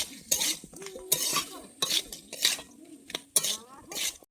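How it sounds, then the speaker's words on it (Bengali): A fried fish head stirred and sautéed in a pan gives repeated scraping, clinking spatula strokes against metal in an uneven rhythm of bursts, close and moderately loud, with faint sizzling underneath. "মাথাটাকে দিয়ে দিচ্ছি দিয়ে আমি ভালোভাবে এক দু মিনিট কষিয়ে নেব"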